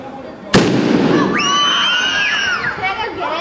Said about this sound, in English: And it's gonna create that explosion.